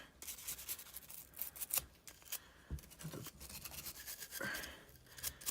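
Close, soft scrubbing of a brush worked back and forth along the outside of a Glock pistol barrel, with irregular scratchy strokes and brief pauses between them.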